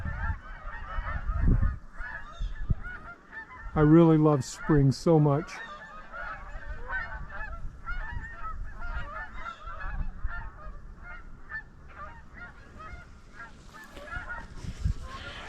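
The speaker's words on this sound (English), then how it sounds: "Canada geese." A flock of Canada geese flying over on a March morning in spring gives a loud burst of several honks, then fainter calls scattered throughout while a person talks nearby.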